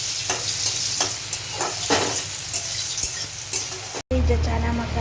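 Chana masala fries in oil in a home kitchen pan, a steady close sizzle broken by several scraping stirs of a spoon and a brief cutoff near the end.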